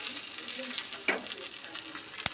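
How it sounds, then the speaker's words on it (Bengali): Ingredients and leaves fry in oil for a homemade hair-growth tonic, giving a steady close sizzle and crackle throughout, with a few light stirring clinks and a sharp tap near the end. "তো এগুলোকে আমরা একটু ভাজা ভাজা করে নেবো, তেলের সাথে একদম লাল করে ভাজবে।"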